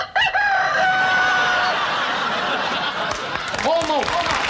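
Crowing and clucking chicken sound effect played during a comedy sketch on a 1970 Christmas variety show, with a drawn-out rooster-like call at the start and a short cluck near the end, under an audience and studio murmur.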